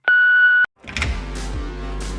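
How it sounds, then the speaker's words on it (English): An answering machine gives a single steady electronic beep, loud and clean for about half a second, then cuts off abruptly into a burst of rumbling background noise. "leave your message after the beep."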